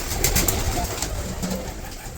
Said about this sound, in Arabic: فطر هالحمامات